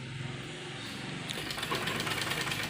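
A sewing machine runs while stitching a kurta sleeve onto the body piece during a full-to-half sleeve alteration, its motor humming steadily before the needle's fast rhythmic chatter picks up, close and moderately loud.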